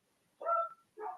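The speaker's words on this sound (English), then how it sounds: "Pardon the dog barking right now." A dog barks twice at a house in the evening, two short, moderately loud barks close by with a brief pause between, and no talking over them.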